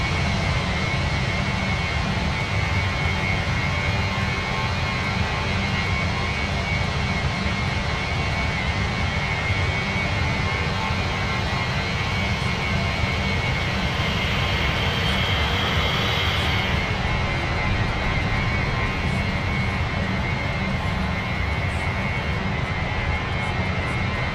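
A320 airliner engines roaring during a go-around in a flight simulator, a loud, steady broadband jet rumble with a sustained whine, unbroken for the whole stretch and no talk over it.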